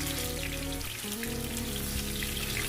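Chicken pieces for chicken Manchurian fry in hot oil with a steady, dense sizzle that stays close and unbroken, no one talking, while low background hum shifts partway through.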